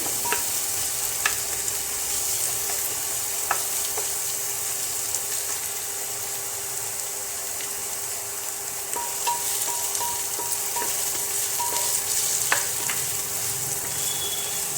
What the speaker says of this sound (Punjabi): ਦੋ ਮਿੰਟ ਵਾਸਤੇ ਪਿਆਜ਼ਾਂ ਨੂੰ ਆਪਾਂ ਗੋਲਡ ਬਰਾਊਨ ਹੋਣ ਦਵਾਂਗੇ